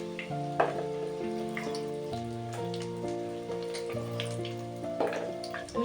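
Chicken for chilli chicken fries in a wok with a soft, continuous sizzle and crackle, partly masked by louder melodic background music.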